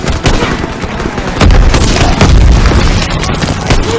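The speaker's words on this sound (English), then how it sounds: "Grenade out!" A grenade detonates in Call of Duty WWII combat along the Rhine, a loud, close, booming blast that rumbles on amid continuing battlefield explosions and gunfire.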